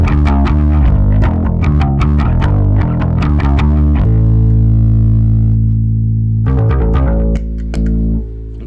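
Distorted bass guitar plays fast repeated notes, then lets a long gritty note ring out before a few more plucks. It is loud, close and has no voices.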